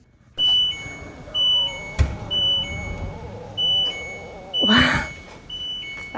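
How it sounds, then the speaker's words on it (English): A dishwasher beeps an error alert in a repeating pattern of short electronic tones at regular intervals, close and fairly loud, with a brief clatter partway through. "bracing for that dreaded beep of the error."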